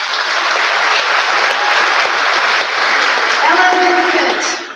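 Loud, continuous applause from a large audience at a high school graduation ceremony, a thick, even wash of clapping hands held for several seconds before fading.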